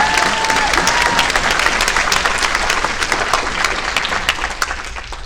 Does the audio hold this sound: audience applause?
yes